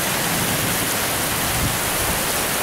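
Heavy rain pours in sheets outside a house, a dense, steady roaring hiss that stays loud and unbroken throughout with no voices present.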